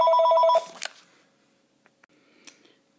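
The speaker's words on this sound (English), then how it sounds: "sorry about the phone call." A telephone rings loudly during a recorded maths lesson, one burst of electronic trilling that cuts off after about half a second, followed by a few small clicks and handling noises in an otherwise quiet room.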